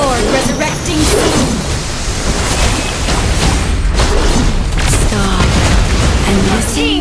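Explosive booms and crashing bursts mark a turret being destroyed in the mobile game Mobile Legends, loud and continuous, with game sound effects layered throughout.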